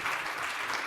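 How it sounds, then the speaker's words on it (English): In-person audience applauding at a funding conference session, a dense steady clatter of many hands filling the room without pause. "That's a very nice round of applause."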